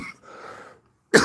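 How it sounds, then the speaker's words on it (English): A single short cough from one person near the microphone, sharp and loud, following a moment of faint breathy throat noise. "I know I just coughed"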